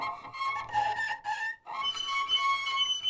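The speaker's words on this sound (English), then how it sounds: "Up here, I have these squeaks." High squeaks from double bass strings being rubbed, as when cleaning them, sampled for a Kontakt library; two close, whistle-like tonal squeals with wavering pitch, separated by a short gap.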